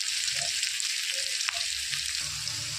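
Snakehead fish frying in hot oil for a curry with potatoes, a steady dense sizzle filling the pan with a few soft clinks of stirring, close and continuous with no talk.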